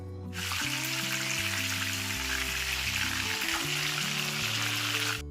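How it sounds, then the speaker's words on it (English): Tilapia fish frying in a pan, a steady broadband sizzle that holds close and even for the whole stretch, with a low hum running underneath. "We have to fry the fish one by one. It will take nearly 5 to 8 minutes to cook on one side."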